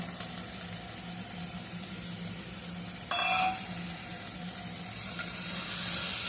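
Fresh green peas tipped into a hot pan for mixed vegetable sagu, a low steady sizzle with a brief clatter and splash partway through, the frying swelling slightly near the end.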